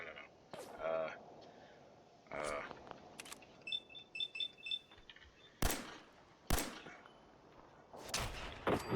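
Video game gunfire in Fallout 4: several sharp, loud shots burst out irregularly, some in quick pairs, between quieter stretches of game ambience and small mechanical clicks.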